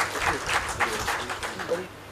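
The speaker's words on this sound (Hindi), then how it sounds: "कृपया तालियों से उनका स्वागत करें।" An audience applauds to welcome a speaker at a poetry gathering, a short round of scattered clapping at moderate loudness, with talk over it.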